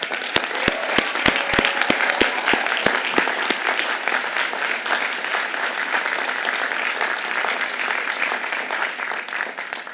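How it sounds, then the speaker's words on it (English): A large audience at the Georgetown McCourt School of Public Policy Class of 2022 commencement applauds, with a few sharp, distinct claps at first that swell into sustained, dense clapping continuing to the end. "They deserve our applause."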